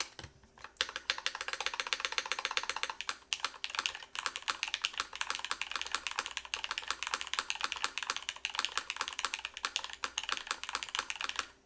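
Rapid, steady typing on a custom Zekkworks Ogre mechanical keyboard with freshly fitted keycaps, with crisp, deep-toned keystrokes clattering close up in a continuous flurry and no talking.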